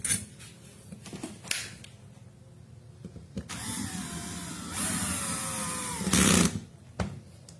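A power tool drives bolts into a frame during installation, with short whirring bursts and a longer sustained run, alongside clatter and handling noises.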